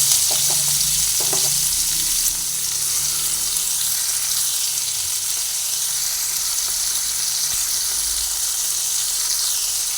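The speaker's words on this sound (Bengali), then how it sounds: "কড়াইতে তেল দিয়ে দিয়েছি তেল দিয়ে এই চিংড়ি মাছগুলোকে ভেজে নেব" Loud, steady sizzling of shrimp frying in hot oil in a wok fills the whole stretch, with a few brief clinks and stirring sounds near the start.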